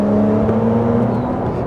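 A turbocharged sports car engine sounds loud and close, with a steady, strongly harmonic drone that holds at a constant pitch throughout.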